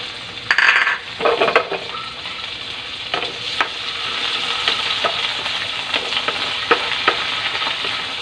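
Tomatoes frying in a pan with garlic, onion and ginger, a close, bright sizzle with spoon scrapes and clinks of metal on the pan, continuing steadily with no talk.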